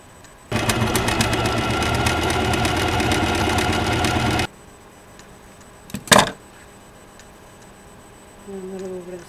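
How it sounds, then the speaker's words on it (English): An electric sewing machine runs fast and steadily for about four seconds while stitching a seam on a small denim jacket for an 18-inch doll, then stops, followed by a sharp clack and a brief low hum. "sew a seam just like we did at the bottom. And then fold over the side and sew the side."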